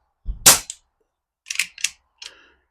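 An airgun fired on a target range using a 3D printed magazine: one sharp, loud close shot followed by a brief tail, then a few fainter clicks and metallic handling sounds.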